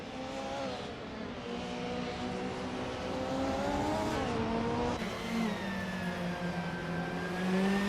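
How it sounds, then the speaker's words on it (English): A 1996 Opel Calibra DTM race car in a racing video game holds a steady, loud engine drone with a slowly climbing and falling pitch as it shifts, close and continuous throughout, with no voices. "The Vagrantenchanter is driving a 1996 Opel Calibra DTM and currently holds the 3rd position"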